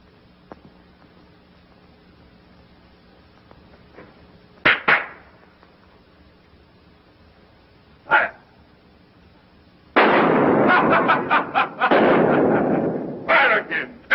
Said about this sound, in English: Fire again. Empty your gun.